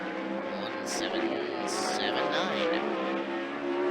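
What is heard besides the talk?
360 sprint car racing by during qualifying laps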